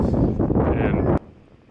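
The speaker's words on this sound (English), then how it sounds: "It was so windy" Strong wind on a golf course buffets the microphone in a loud, rumbling roar that cuts off abruptly near the end, leaving quieter background noise.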